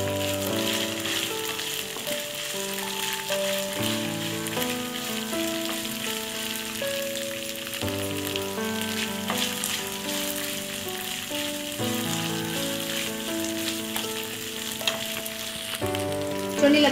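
Chillies fry in hot oil for veg biryani, a steady, moderately loud sizzle and crackle running throughout, with gentle stirring and no talking.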